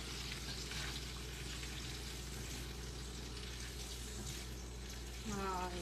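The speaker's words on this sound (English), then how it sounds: "you can't smell it cooking, but you can hear it cooking" Keto gravy of bone broth and heavy whipping cream cooking in a pan for green bean casserole, with a soft, steady sizzle and bubbling throughout and a brief clatter near the end.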